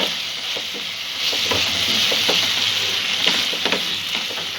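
Masala for a peas and paneer pulao fries in a pan, salted, with a loud, continuous sizzle and occasional clinks and scrapes from stirring. Nobody speaks.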